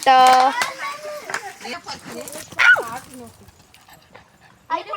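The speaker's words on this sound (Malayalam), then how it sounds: "ഇതാണ് എൻ്റെ നായ്ക്കുട്ടി" A close, loud puppy whimpers in high, wavering cries and lets out short yips and bark-like yelps, with a person talking intermittently in between.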